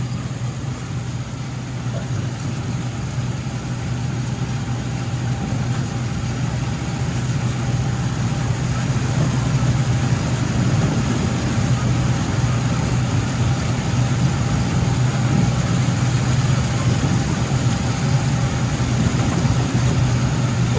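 A kuliglig motorized farm cart engine running in deep floodwater, a steady low rumbling drone that stays loud and unbroken, close by with little variation.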